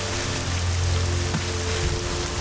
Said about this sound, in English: so that we're not getting soaked in the rain.